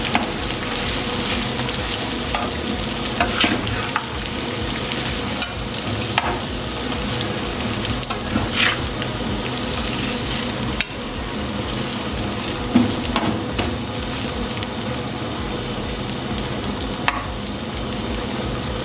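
Tawa chicken with chopped fresh coriander sizzles steadily in a pan on a switched-off stove while being stirred, a continuous close frying hiss with scraping stir strokes throughout.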